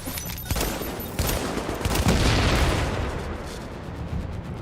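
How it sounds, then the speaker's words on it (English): Heavy gunfire in the video game The Division, a dense continuous burst of overlapping shots and impacts, loud and close, swelling in the middle and easing toward the end with no talk over it. "Who else is shooting me right now?"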